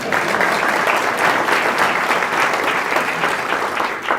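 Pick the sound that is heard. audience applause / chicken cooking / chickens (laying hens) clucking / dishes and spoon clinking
audience applause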